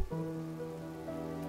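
Heavy rain pours down steadily, a dense, continuous hiss of water striking surfaces, with faint tonal background sound underneath.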